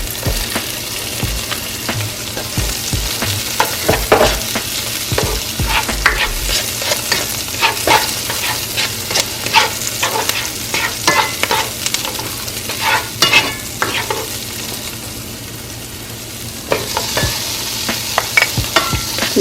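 Scallion sautés in a pan over medium heat, with a steady sizzle and frequent scraping, stirring strokes, close and fairly loud, with no voices.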